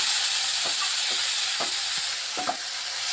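Steady sizzle of pumpkin peel frying in a pan fills the clip, with a few soft scraping stirs breaking through at irregular moments; no voices.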